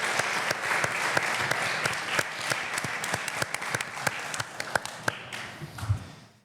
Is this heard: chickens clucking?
no